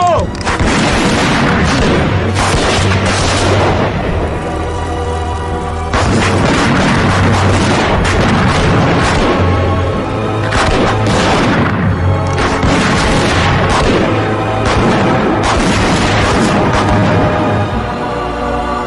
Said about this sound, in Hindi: उड़ा दो, सबको उड़ा दो।